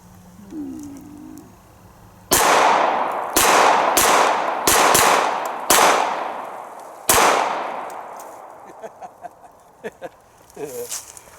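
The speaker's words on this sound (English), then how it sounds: "here we go with our first shot at the XD. It's 9mm, so recoil should be very controllable anyway." A Springfield XD 9mm pistol fires six loud, sharp shots in an uneven rhythm, a quick cluster followed by a last shot, with faint rattles and a brief voice afterward.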